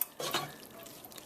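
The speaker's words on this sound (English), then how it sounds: "I'll just kind of spread the butter around on the pasta noodles" Butter being stirred through cooked gluten-free pasta noodles for a tuna casserole, giving a few soft, close scraping and stirring sounds over about a second, with a brief louder knock at the end.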